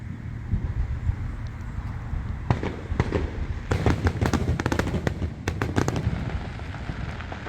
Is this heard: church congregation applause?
no